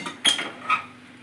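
Chicken momo soup stirred in a pot, with two quick metallic clinks and scrapes of a spoon against the pot in close succession, near and fairly loud, then quiet.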